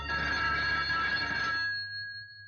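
A telephone bell ringing in a classic Bollywood film scene, one loud sustained ring that stops abruptly, leaving a short fading tone behind.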